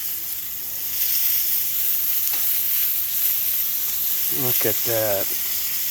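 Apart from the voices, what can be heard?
chorizo brats sizzling on a grill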